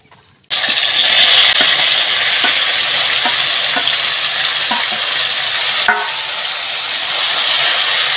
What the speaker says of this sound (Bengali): চালতাগুলো দিয়ে নাড়াচাড়া করে নেব